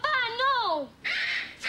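A pet cockatoo squawks indoors in a shop, giving a loud, wavering cry that bends up and down, then a harsher raspy screech, close and alone.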